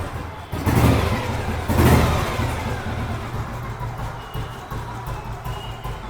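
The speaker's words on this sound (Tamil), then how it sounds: "நான் வெஹிக்கிளை ஸ்டார்ட் பண்ணி காமிச்சிடுறேன்." A restored vintage Royal Enfield motorcycle engine fires up and revs in two strong bursts, then settles into a steady, loud, close thumping run.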